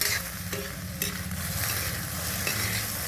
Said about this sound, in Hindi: और फिर हम इसे बढ़िया से मिला लेते हैं सब्जी में।